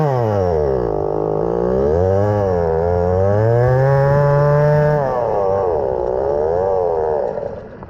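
Chainsaw-engine dirt bike on a gentle test ride, its small two-stroke motor buzzing steadily and loud throughout, pitch climbing and falling with the throttle over several seconds before easing off at the end.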